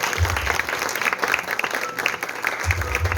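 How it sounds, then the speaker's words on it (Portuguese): A church congregation applauding together, a steady dense wash of clapping that runs the whole stretch, with low musical or bass swells near the start and end beneath it. "Aplauda, Senhor."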